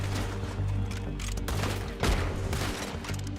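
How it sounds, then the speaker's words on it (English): Rapid gunfire from a Red Dead Redemption 2 shootout crackles almost without pause, with overlapping shots, a heavier blast near the middle and steady game ambience underneath. "Told you I could shoot a gun"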